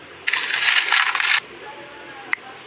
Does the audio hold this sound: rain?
no